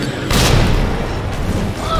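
A grenade goes off in the Resident Evil 2 Remake, a single loud, deep boom with a burst of noise that rings on through the rest of the moment, with no talk over it.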